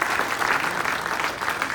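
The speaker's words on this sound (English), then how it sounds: "Please give him another round of applause" An audience at an innovation district launch event gives a dense, steady burst of applause that fills the short moment, with no clear voices over it.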